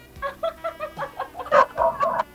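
A chicken clucks in a rapid series of short, close, fairly loud clucks, rising into a louder burst of squawking near the end.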